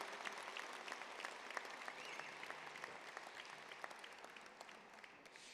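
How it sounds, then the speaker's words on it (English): A large banquet crowd applauds All-American student athletes at a college football awards dinner, heard as a continuous, fairly distant wash of clapping with scattered sharper claps throughout. "One more time, a round of applause for our phenomenal All-American student athletes."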